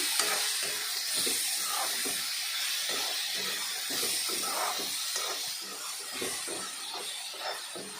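Ground cumin-coriander powder gets stirred into a hot cooking pan, a steady sizzle and hiss with soft repeated scraping strokes throughout.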